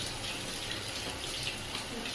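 Water pours steadily over a Shih Tzu being bathed at home, a continuous close splashing stream with faint voices in the background.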